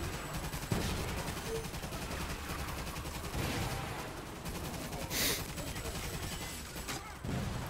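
Gunfire from the Toy Soldiers Complete video game: a dense, continuous rattle of rapid shots and explosions that carries on steadily and loudly throughout, with occasional heavier booms.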